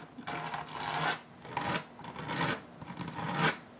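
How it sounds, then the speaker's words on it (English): Repeated rasping strokes of soda-can metal edges being sanded on sandpaper, four or five back-and-forth passes in a steady rhythm, close and fairly quiet. "I'm going to be taking these things over to the sandpaper and sanding them up"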